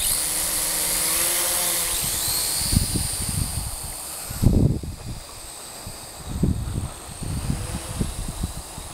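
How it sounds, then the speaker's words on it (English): Strong gusty wind blowing outdoors on a windy day where a small drone is flown, a steady broad rushing roar with buffeting bursts swelling and fading near the microphone. "Now the wind's coming from my back. Oh boy, it's blowing good."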